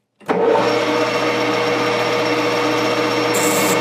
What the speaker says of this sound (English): Might as well use the center drill. This is a number 32 drill bit.